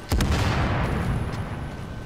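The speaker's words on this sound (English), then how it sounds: "Explosion." A loud explosion goes off in the video game Tom Clancy's The Division, a sharp blast followed by a long, heavy rumbling roar that decays slowly.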